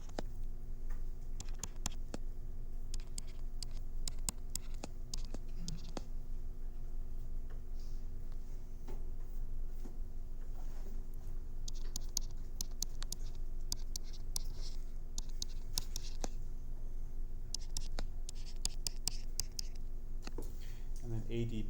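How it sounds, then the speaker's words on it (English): Marker or chalk strokes as a chemical structure is written out during a chemistry lecture, giving quiet, irregular taps and scratches of varying rhythm against a low room hum. "Let's go ahead and write that structure."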